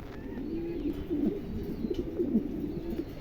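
Big Mundi pigeons kept for sale coo softly nearby in low, throaty rolling calls, several overlapping phrases repeating over a faint background hiss.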